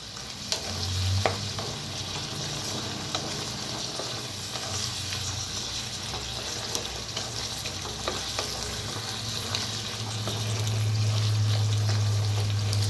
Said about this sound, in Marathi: आणि आता भाजीला मिक्स करून घेऊया।